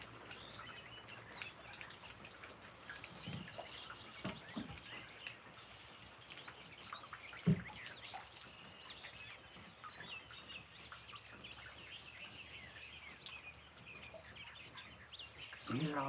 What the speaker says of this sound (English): You hear all the beautiful birds singing?